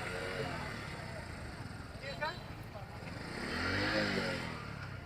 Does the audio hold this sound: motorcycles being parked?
yes